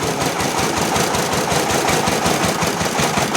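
A small tractor engine chugs steadily in first gear while pulling a rotary tiller across a field, a loud, close, continuous pulsing knock with no voices over it.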